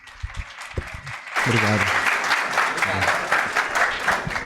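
An event audience breaks into applause to welcome a speaker at a tech talk, dense steady clapping starting after a brief opening and continuing throughout, with a voice speaking briefly over it.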